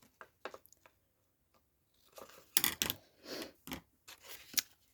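Scissors trimming paper for a tall Italian-style craft journal, several close crisp snips and crunchy cuts in quick bursts after a quieter start, with no talking.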